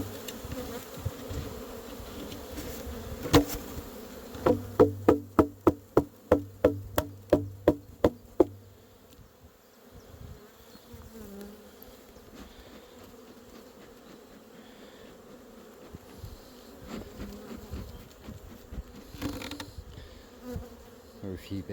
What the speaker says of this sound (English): There are a few bees in there now.